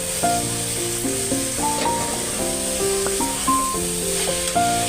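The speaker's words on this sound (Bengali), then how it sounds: "এবার একটু কষাবো তারপর জল দেবো" Boiled taro stolons sautéing in a pan with dried shrimp, a steady close sizzle throughout with background music playing over it.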